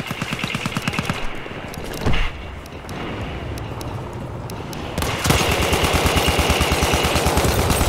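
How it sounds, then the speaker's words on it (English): Rapid automatic gunfire from the Battlefield 1 video game, loud and close, with regular bursts early on, a brief lull with scattered shots, then a dense sustained volley over the final seconds. "You're shooting nearby me."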